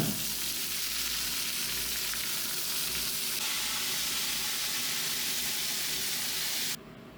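Papaya pieces sizzle steadily in a hot pan, a constant dense crackle that runs unbroken until it drops off near the end.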